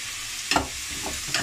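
Chicken wing frying in a pan gives a steady close sizzle, broken by two or three quick stirring scrapes, with no voices.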